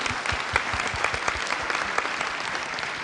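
Applause from a panel session audience, a dense even patter of many hands clapping at moderate volume, unbroken and free of voices throughout.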